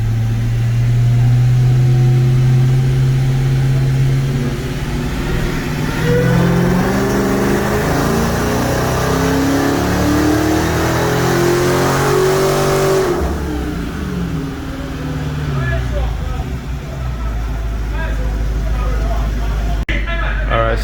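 A 2018 Hellcat roars through a dyno pull, its engine note climbing steadily in pitch to a loud peak before cutting back to a lower drone, with voices faintly present underneath.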